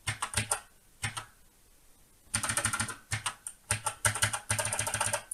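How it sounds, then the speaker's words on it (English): Stiff keys on an Acorn Electron computer keyboard typed in close, loud clattering bursts of rapid clicks separated by short pauses, with no talking. "I guess probably a good time for me just to work out exactly how stiff this keyboard is"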